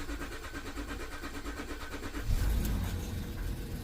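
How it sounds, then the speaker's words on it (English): A Land Rover Discovery 3 is started with the key. A faint cranking chatter builds until the engine catches with a sudden loud, low roar, then keeps running close by. "Put a foot on the brake and turn the key."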